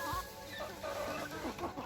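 Chickens cluck close by in a poultry yard at watering time, a dense murmur of overlapping low clucks and squawks, fairly faint and continuous throughout.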